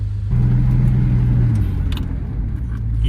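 A 2000 Jeep Cherokee XJ with a suspected warped brake rotor drives and brakes, its engine a steady low rumble heard from inside the cabin, with a faint knock or two and no voices.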